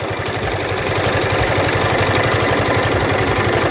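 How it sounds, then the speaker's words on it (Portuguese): A hot Yamaha Fazer 250 motorcycle idles up close and loud, its engine turning over in a fast, steady pulse, with a faint metallic knocking inside the motor and no talking. "isso agora é o barulho da moto quente, tá vendo?"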